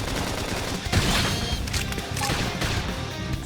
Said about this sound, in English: Topple them with gunfire.